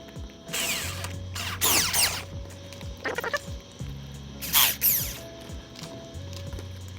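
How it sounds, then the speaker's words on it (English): A drill cuts a 3/4 inch hole for an H4 headlight connector during a xenon install on a Hyundai Solaris, with several short close bursts of whirring and grinding broken by pauses and clicking tool noises. "you drill a hole large enough for this H4 connector to get through"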